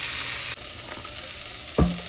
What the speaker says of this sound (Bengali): আমি এখানে বেগুন ভাজা করছি